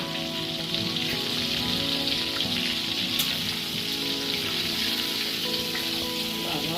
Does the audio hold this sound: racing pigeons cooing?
no